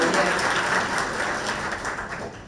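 Audience clapping at a school pitch event, a dense crackling burst that is loudest at the start and slowly thins out, with some murmuring mixed in.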